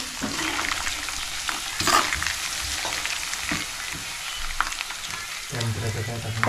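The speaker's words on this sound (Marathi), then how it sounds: "जरा 5-10 मिनटं जरा तळून घ्यायचं. सगळं तळून घ्यायचं चांगलं." Spices fry in a pan of oil, a steady close sizzle with sharp crackles and the scrape of a spoon stirring, one loud burst near the start.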